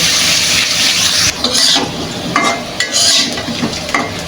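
Potatoes fry in a pan with a steady, loud sizzle, broken by scraping stirs and light clinks of a utensil against the pan, alone without any talk.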